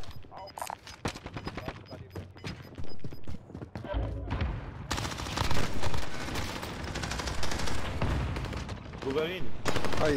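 Gunfire in the Call of Duty video game, with sharp single shots at first and then dense rapid bursts and heavy automatic fire, loud and close, with a voice talking over it.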